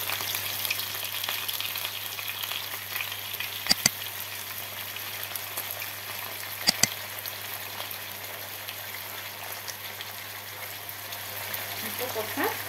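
Hake sizzles and fries steadily in a pan, a constant close crackle with a couple of sharp clicks, while a person talks at times over it.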